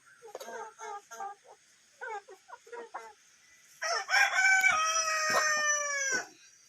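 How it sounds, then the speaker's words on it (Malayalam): Chickens cluck in short bursts close by, then a rooster lets out a long, loud crow that fills the second half before cutting off. "കോഴിയൊക്കെ നിന്നെ കാണാൻ വന്നിരിക്കുന്നുണ്ടോ?"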